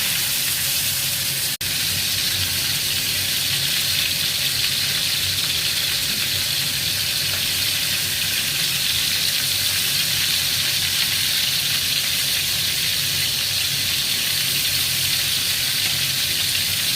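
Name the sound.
salmon fish frying in pan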